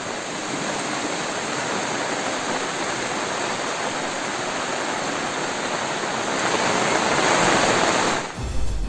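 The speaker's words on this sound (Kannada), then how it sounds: "ಎಷ್ಟು ಒಂದು ನೀರು ಧಾರಾಕಾರವಾಗಿ ಹೋಗ್ತಾ ಇರುವಂತದನ್ನ ಗಮನಿಸ್ತಾ ಇದ್ದೀರಾ?" Torrential floodwater rushes after heavy rain near the Kaveri river in Kodagu, a loud, dense, steady roar that stays unbroken for the whole stretch and swells slightly near the end before cutting off.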